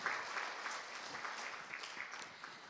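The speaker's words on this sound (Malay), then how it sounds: "Berikan tepukan untuk tokoh ulung kita ini" A university lecture audience gives applause to a guest professor, a faint, scattered patter of clapping hands in a quiet hall, with a few sharper individual claps standing out and no speech.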